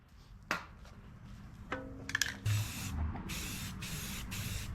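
An aerosol can spraying primer onto an old Edsel E400 engine, with a faint rattle and short hisses followed by longer steady bursts of spray, close and fairly quiet with no talk.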